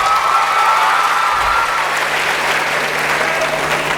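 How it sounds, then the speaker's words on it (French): An audience at a ceremony in Dakar applauds steadily, a dense, even wash of clapping from many hands that holds at a constant level throughout. "Merci de l'applaudir"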